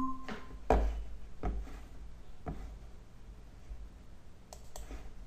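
A computer mouse clicks a few times, sharp and close, spaced irregularly with a quick double click near the end, over a quiet room hum.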